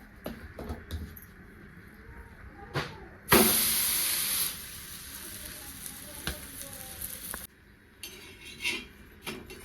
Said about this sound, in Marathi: दोन्ही साईडनं छान असं थालीपीठ भाजलेलं आहे खरपूस असं कलरचं